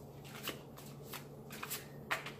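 Tarot cards are shuffled close up in quick, papery riffling bursts, several in a row, soft and crisp against a quiet room.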